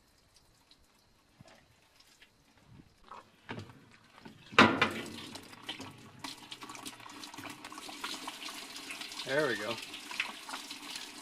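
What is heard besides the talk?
water running from an opened hose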